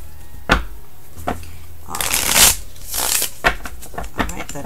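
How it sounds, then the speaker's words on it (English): Tarot deck, the Starchild Tarot Akashic edition, being shuffled by hand: a series of soft riffling snaps and papery bursts, fairly close, with a longer flurry of rapid card flutter in the middle. "All right, that's the shuffle."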